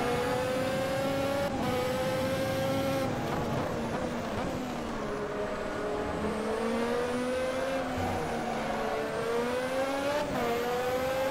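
A 1989 Formula 1 race car engine in the Automobilista game drones continuously at high revs, its pitch rising and dipping through upshifts and corners, loud and steady throughout with no talk.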